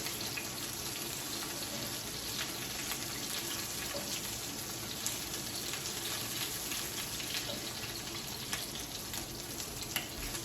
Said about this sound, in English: They are looking good, making the right noise, crackle, crackle.